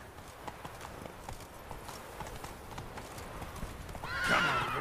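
Horse hooves clip-clop steadily in a gallop in The Witcher 3, then a loud, close neigh rings out near the end.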